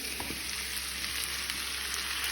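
Potatoes fry in a pan with onion and green chilli, giving a soft, steady sizzle with a few faint stirring scrapes, quiet and alone.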